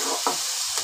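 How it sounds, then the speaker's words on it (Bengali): Vegetable chowmein tossed and fried with chowmein masala for a breakfast dish, giving a steady close sizzle with a couple of brief stirring scrapes over less than a second. "এবার আমি চাউমিনের মধ্যে যে মশলাটা থাকে সেই চাউমিন মশলা দিয়ে দিচ্ছি এর মধ্যে, দিয়ে আবার ভালো করে ভাজা করে নেব সব একসঙ্গে"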